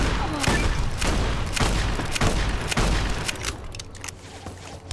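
Rapid bursts of gunfire in the Fallout New Vegas video game, several loud repeated shots in a steady rhythm with booming low end, tapering off toward the end as a voice speaks briefly.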